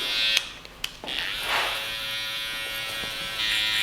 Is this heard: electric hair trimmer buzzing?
yes